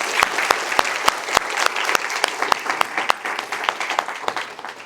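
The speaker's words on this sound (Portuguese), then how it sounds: "Uma salva de palmas para" An audience at a talk in Araraquara, São Paulo applauds, a steady clatter of many hands with a few crisp, close claps, fading slightly toward the end.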